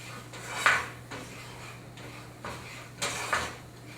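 A butter and flour roux is stirred in a pan, a handful of close metal utensil scrapes and taps against the cookware in an uneven rhythm over a faint background hum.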